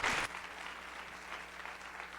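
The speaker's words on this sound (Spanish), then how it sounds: "le damos un fuerte aplauso al doctor" At a veterinary conference on ferrets in emergency practice, the audience applauds the doctor after his talk, a steady wash of clapping that follows a brief louder sound at the start.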